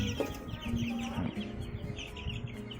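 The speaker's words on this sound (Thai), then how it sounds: "อันนี้ลูกไก่ของเราก็ได้สามสัปดาห์แล้วนะครับนี่" Three-week-old laying-hen chicks cheep and cluck in a brooder, a steady overlapping chorus of small high calls, close and moderately loud throughout.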